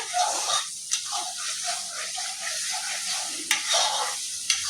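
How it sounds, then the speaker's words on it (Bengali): Spice masala with tomato for a home-style Bengali mutton curry is stirred in oil in a pan, giving a close, continuous sizzle with soft scraping strokes and a few sharper clinks of the spoon. "আর একটু মশলাটা ভালো করে কষিয়ে নেব, তারপরে মাটনটা দেব।"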